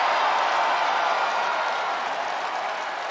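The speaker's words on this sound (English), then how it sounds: "The crowd is going insane." Arena crowd roaring and cheering steadily in WWE 2K25, a broad wash of noise that holds loud and even throughout, slowly easing slightly toward the end.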